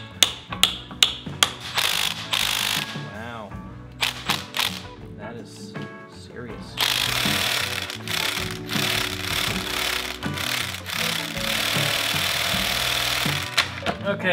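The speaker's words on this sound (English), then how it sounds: "So I'm going to be removing these two bolts for the differential mounts and then all of the bolts for the axles" Removing differential mount bolts from a Lexus IS300 rear subframe, sharp ratchet clicks in short bursts followed by a long, loud, continuous buzzing power-tool run, close up, with occasional talking.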